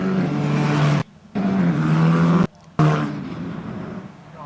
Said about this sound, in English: So cars have moved away on the green flag lap